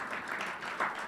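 An audience at a poetry reading gives brief, fairly faint applause with scattered clapping for about a second.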